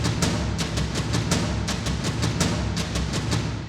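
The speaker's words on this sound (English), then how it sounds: "So I used the tom ensemble for another accent layer here, and they sound like this." Tom ensemble drums from the Pacific Percussion sample library, a steady rhythmic pattern of deep, booming tom hits with sharp attacks repeating at an even pace, played alone without voices.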